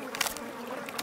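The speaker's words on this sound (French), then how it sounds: "Allez-vous-en, les mouches." Cartoon flies buzzing around a dirty pond, a close, steady insect drone with brief swells as they swarm, no voices over it.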